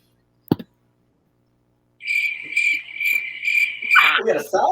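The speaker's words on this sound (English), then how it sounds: "Yeah, crickets." Crickets chirping as a sound effect played from a soundboard, a steady high pulsing trill that begins abruptly after a brief knock and continues alone, ending in a burst of other noise.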